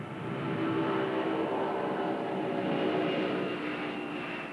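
A Pan Am Clipper airliner, the Clipper New Horizons, takes off with a steady, loud jet engine roar that holds constant throughout, broad and rumbling with no voices over it.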